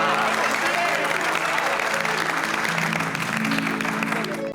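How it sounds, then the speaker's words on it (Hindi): Loud applause from a group of people in a sitcom scene, continuous dense clapping over a low sustained music bed, steady to the end. "इसलिए एक बार बबीता जी के लिए जोरदार तालियां।"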